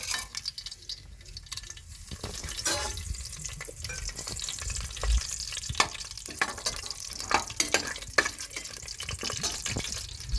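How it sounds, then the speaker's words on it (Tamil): Cinnamon and other whole spices crackle and sizzle in hot ghee, a close, continuous frying hiss with irregular pops and light stirring scrapes, no voices. "பட்டை வகை நல்லா பொரிஞ்சிருச்சு"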